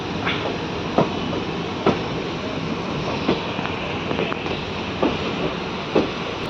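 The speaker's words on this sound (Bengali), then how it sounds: "আমাদের ট্রেন দেখুন গোল করে চলে গেছে" A train runs along a hill track past waterfalls on the way to Silchar, its wheels giving a steady rumble broken by evenly spaced clacks about once a second, with no one talking.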